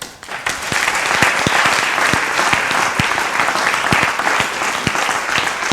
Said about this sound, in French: Je voudrais vous demander d'applaudir M. Jacob Sou.